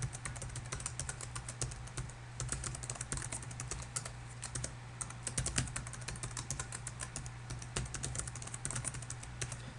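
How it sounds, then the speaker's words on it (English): A password being typed on a computer keyboard, with rapid irregular key clicks continuing over a steady low hum and no talking. "So let me type that in."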